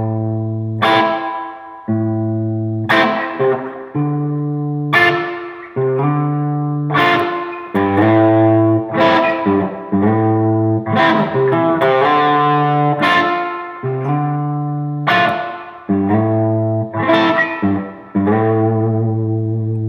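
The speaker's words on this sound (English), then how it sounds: "now I'm gonna take the boost off and try a little bit of reverb from the RV5 boss pedal" Gibson L6S electric guitar played through a Boss RV5 reverb pedal, ringing chords and arpeggiated notes struck about every two seconds, each left to sustain with a reverb tail, steady and loud throughout.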